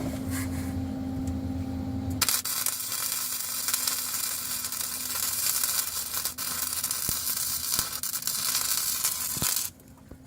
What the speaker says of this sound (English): Once all the oil burns up, it'll quit burning